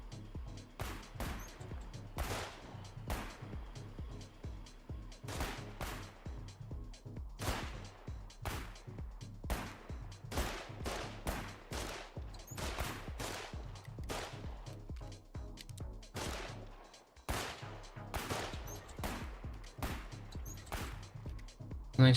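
Repeated gunfire in a military shooter game, with sharp single shots and short bursts cracking steadily throughout, near and loud against a busy background of battlefield noise.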